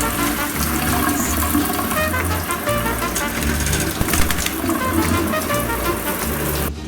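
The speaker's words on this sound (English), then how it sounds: "Have you ever seen a bird take a bath?" A pet bird named Ari splashes in its bath, giving continuous close, loud splashing and flicking of water with no pauses.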